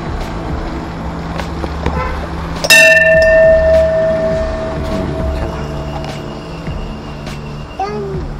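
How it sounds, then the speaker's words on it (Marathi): A bell is struck once at a roadside stop on a trip from Karoli to Pune, giving a bright, sustained ring that decays slowly over several seconds above steady outdoor ambience and background noise. "टन वाजली घंटी."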